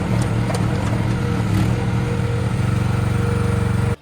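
A Chinese 1-ton Cimarron mini excavator engine runs loud and close, a throbbing small-diesel chug with a steady rhythmic pulse that cuts off abruptly at the end.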